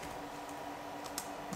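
Typing on a computer keyboard while entering text for a laser show display, faint continuous key clatter with a couple of sharper taps, no voices.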